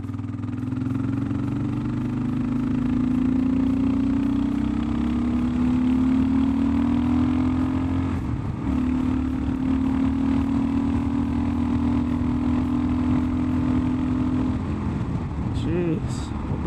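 A KLR 650 motorcycle engine fitted with a new header pulls steadily under acceleration, a loud continuous drone with a slowly rising pitch that holds for most of the run, then briefly wavers near the end.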